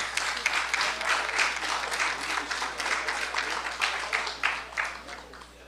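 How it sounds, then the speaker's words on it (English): An award-ceremony audience gives a sustained round of applause for an art prize winner, dense and steady clapping at a moderate distance that fades slightly near the end, with a low hum underneath. "Huge round of applause for Menuchi Kaduri"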